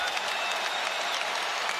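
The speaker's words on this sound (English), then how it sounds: "Great hustle from LeBron James in the midst of the crowd and gets the applause." Crowd applause at an NBA basketball game after a diving hustle play by LeBron James into the first row, a dense steady wash of clapping and crowd noise throughout, fairly distant and even.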